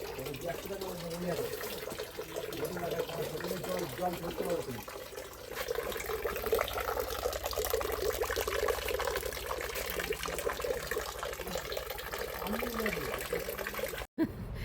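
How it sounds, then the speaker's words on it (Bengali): Clear spring water runs out of a hillside through a bamboo spout at a cave garden in Cherrapunji, a steady close splashing flow under continuous talk from people nearby. "জলটা দেখতেই পেলে পাহাড়ের ভেতর দিয়ে বেরোচ্ছে, একটা বাঁশ লাগানো আছে, খুব পরিষ্কার জল।"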